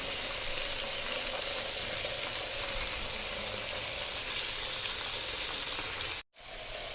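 Fish fries in hot oil in a kadai with a steady, bright sizzling hiss that continues evenly, then cuts out for a moment just before the end.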